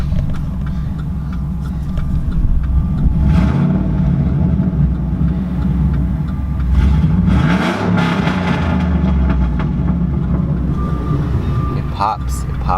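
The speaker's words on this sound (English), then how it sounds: "give y'all a little bit more revs" A 2008 Chevrolet Silverado with headers and a straight-pipe exhaust rumbles loudly nearby, with a couple of rising revs and deep idle between them, while someone talks over it.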